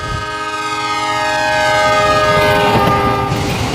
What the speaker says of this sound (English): if you've ever heard a train going by blowing its whistle